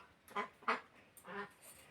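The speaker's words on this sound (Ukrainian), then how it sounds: "починають підтягуватися качки" Ducks quack on a rural homestead in the morning, three or four short nasal calls in quick succession, fairly close and clear against quiet surroundings.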